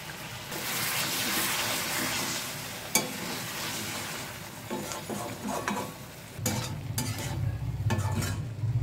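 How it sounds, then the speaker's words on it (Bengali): Uncovered egg posto curry gravy simmering in a pan while being stirred, a steady bubbling sizzle with scraping spoon strokes and a few sharp clinks against the metal, close by and fairly quiet. "এবার আমি আর ঢাকবো না, এবার একটু ঝোলটাকে শুকিয়ে নেব"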